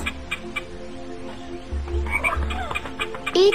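Frog croaks in a cartoon nature setting, a few low throaty calls repeating over a background of birds and outdoor ambience, fairly close, with no talk.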